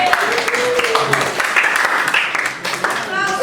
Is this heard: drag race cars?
no